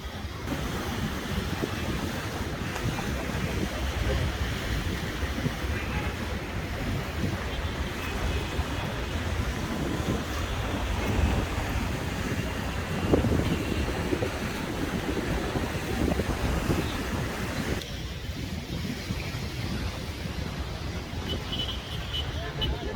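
Sea waves washing onto the Matrouh coast in Egypt, a steady broadband roar of surf with wind buffeting the microphone throughout, continuous and fairly loud with no clear breaks.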